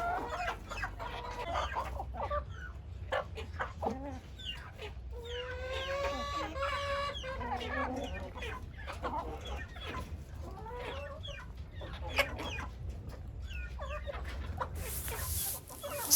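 Chickens cluck and squawk steadily at close range while being fed chopped sukuma wiki greens, with a few louder calls and occasional clattering as they crowd around.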